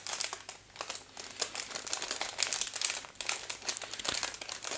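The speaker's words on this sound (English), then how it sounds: "Tricky to get that plastic undone." Plastic packaging around a new 200 g weighing scale crinkles and crackles as it is pulled open, in irregular close rustling bursts, quiet overall.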